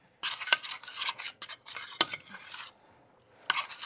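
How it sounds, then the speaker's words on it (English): A utensil scrapes and stirs against pots of melting chocolate in a home kitchen, with repeated swishing strokes and sharp metallic clinks, close by and with no talking. "we are just melting down both pots of chocolate here"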